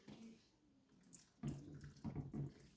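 Hands scrubbed under a running tap at a sink during a clinical hand-washing procedure, a quiet steady water stream with louder rubbing and splashing bursts in the second half, no talking.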